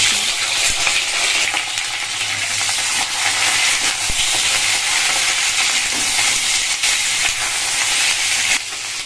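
Flat beans hit hot mustard oil in a wok, setting off a loud, dense, continuous crackling sizzle that holds steady up close throughout, with no talking.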